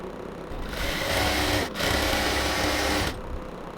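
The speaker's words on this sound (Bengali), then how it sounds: "ফোল্ডিং ধরার পরে এই কাপড়টাকে আমরা এক পাশ থেকে সেলাইটা স্টার্ট করতেছি" A sewing machine stitches a folded pillow cover from one side, its rapid mechanical whir running steady and close, briefly pausing midway before continuing, then slowing off at the end.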